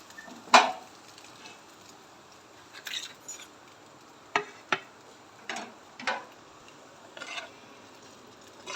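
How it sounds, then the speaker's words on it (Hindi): Breakfast being served from a pan onto a plate: scattered utensil scrapes and clinks against the cookware, sharp isolated knocks with quiet gaps between. "अब हम आपको ये प्लेट में निकाल के दिखाते हैं।"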